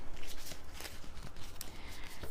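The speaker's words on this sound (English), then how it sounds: "And so let's give the cards a shuffle and see what card that we get." A deck of cards is shuffled nearby in a quick burst of soft riffling and flutters, quiet and close, with no talking.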